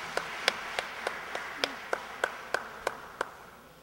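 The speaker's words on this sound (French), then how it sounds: "Let's give them a hand." Small audience giving a hand, a sparse run of about a dozen separate claps spaced evenly, fairly quiet over a faint room hum with no other sound.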